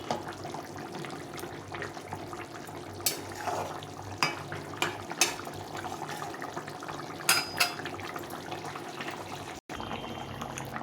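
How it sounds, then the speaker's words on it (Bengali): Fish curry with elephant foot yam and potatoes, seasoned with fried cumin powder, simmers in a pot as a steady watery bubbling, broken by a few sharp clinks of a utensil against the pot. "দিয়ে ভালো করে নেড়ে চেড়ে আরও কিছুক্ষণ ফুটিয়ে নিতে হবে ঝোলটাকে।"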